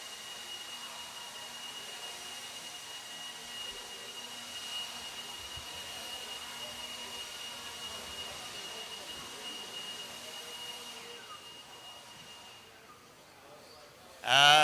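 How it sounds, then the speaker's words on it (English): Leaf blowers run by marshals clearing an RC race track at the Desert Classic, a steady faint whooshing whine holding for many seconds, distant and even, ending with a sudden louder burst. "Blower goes off the track, not on the track"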